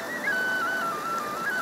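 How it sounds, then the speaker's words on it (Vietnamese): Vietnamese bamboo flute (sáo) plays a single sustained, gently wavering melodic line, clear and fairly loud, with no voices. "Tiếng sáo, tiếng lòng"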